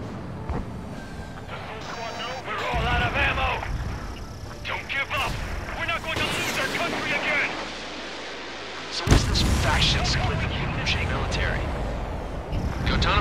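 Gunfire and explosions from Ace Combat 7 rumble in dense bursts with heavy booms and crackling, including one sharp loud blast, while voices talk over the combat throughout.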